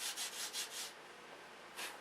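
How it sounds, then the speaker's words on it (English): Sandpaper rubs over a model aircraft cowl in a series of rhythmic strokes, about five quick passes followed by a pause and one more stroke, close and soft with no talk. "keep sanding until it's all"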